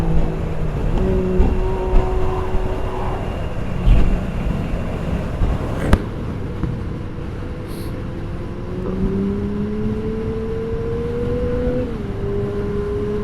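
A Yamaha motorcycle with an aftermarket exhaust pipe runs its engine, which hums steadily and rises in pitch as it revs, under outdoor wind noise. The sound is moderately near and continuous, with no talk.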